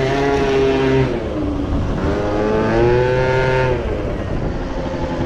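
A Derby scooter's small engine revs hard as it accelerates, whining pitch climbing in repeated rising sweeps, loud and close with no talk over it.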